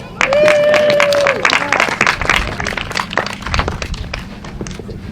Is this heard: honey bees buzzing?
no